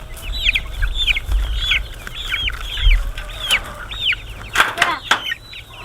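Several chickens clucking close by, with repeated short rising calls overlapping in a busy, continuous flock chatter and some low background rumble.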